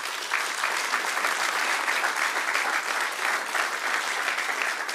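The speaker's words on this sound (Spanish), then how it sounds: "Dale otro aplauso a nuestro Dios" A church congregation bursts into steady, sustained applause during a sermon, a dense wash of many hands clapping at an even level throughout, with only faint voices beneath it.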